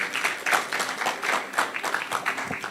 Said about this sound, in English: A round of applause for Mrs. Tokumbo.